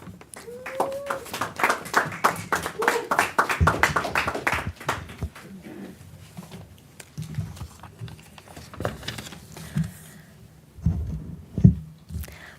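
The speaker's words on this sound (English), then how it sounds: "Again, major applause for the town of Carrboro, North Carolina." Scattered applause from a small crowd at a town of Carrboro, North Carolina news conference, brisk clapping for a few seconds that thins out to a few stray claps amid faint murmurs.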